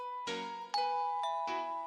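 Doorbell chiming, a clear two-tone ding-dong struck twice in succession, bright and close with ringing tones sustaining between strikes and no talking.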